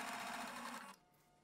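A sewing machine running a long basting stitch along a zipper seam, a continuous close mechanical whir that stops abruptly near the end, leaving quiet room tone.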